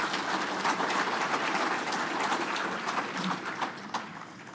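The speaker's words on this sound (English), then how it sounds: "Y'all please give them a round of applause." Steady audience applause at an electric cooperative's annual meeting, a dense patter of many hands clapping at moderate distance, continuous for several seconds without a break.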